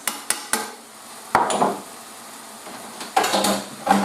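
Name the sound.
mixing bolognese sauce with herbs in a pan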